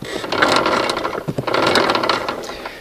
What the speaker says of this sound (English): A little chain rumble, but the bearings are in nice shape.